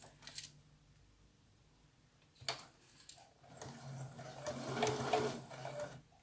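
A sewing machine stitches the leg of a cloth doll, starting with a few short bursts of whirring, then running in a longer faint, rapid mechanical buzz, quiet and close.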